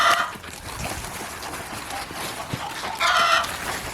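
A backyard hen cackles loudly after laying an egg, with repeated clucking calls rising at the start and again near the end over a noisy outdoor background.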